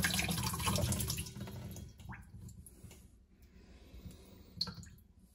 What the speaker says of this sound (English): go ahead and open your faucet at this point to allow the water to come down